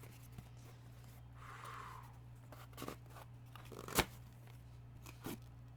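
Paper packing rustles and crinkles while a package is unboxed: soft, scattered crackles and scrunches, quiet and close, broken by a few sharper snaps over a low steady hum.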